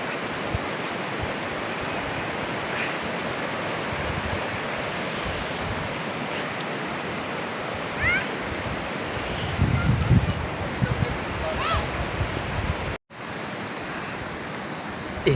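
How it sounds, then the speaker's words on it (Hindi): Steady rain pours down in a village in Neelum Valley, a dense, even broadband wash like surf that runs without a break, with a brief dropout near the end. "बारिश शुरू हो गई है"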